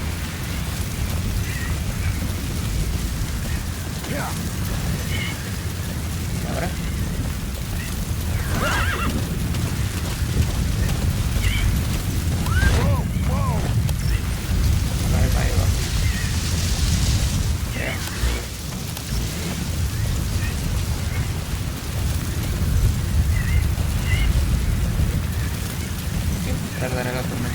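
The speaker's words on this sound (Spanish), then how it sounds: "Tormenta de arena, no lo esperaba." A steady roaring wind of a sandstorm in Metal Gear Solid V: The Phantom Pain, a dense continuous rush, mixed with horse neighs and hoof clops and a brief spoken line.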